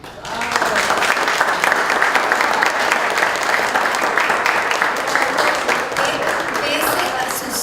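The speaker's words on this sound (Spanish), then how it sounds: "Pese a sus ardientes aplausos, creo que se demoraron bastante" Sustained applause from an audience at a cultural talk at Centro León in the Dominican Republic, steady dense clapping running loud throughout, with no voices over it.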